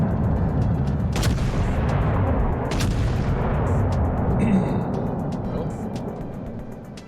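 Explosions from a bombing run in a naval combat video game: deep rumbling booms over a continuous low roar, with two sharper blasts early on, fading toward the end.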